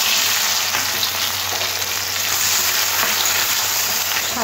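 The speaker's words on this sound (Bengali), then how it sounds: "ফোড়নটা হয়ে গেছে, এবার দিয়ে দেবো পেঁয়াজ।" Onions frying in hot oil with bay leaves and cumin for a Bengali potato chicken curry, a loud, steady, unbroken sizzle heard up close with no voices.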